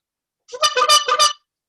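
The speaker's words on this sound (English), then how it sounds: "they honk this old-fashioned horn" Old-fashioned honking horn sounding a quick series of about five squawky honks, loud and close, with no talk over it.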